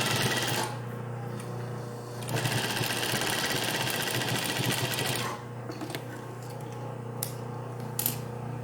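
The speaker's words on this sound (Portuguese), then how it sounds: "vir aqui aplicando um pesponto." Sewing machine running steadily while topstitching an English seam finish on fabric, a close continuous whirring hum with a short pause partway through and a few brief clicks near the end.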